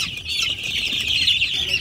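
Many Sonali chickens on a poultry farm of about 3300 birds, during vaccination, cluck and squawk in a dense, continuous chorus, with occasional wing flapping close by.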